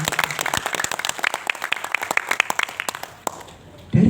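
Scattered clapping from an audience at an NU award ceremony, brisk and uneven, fading out before a short burst of noise at the end.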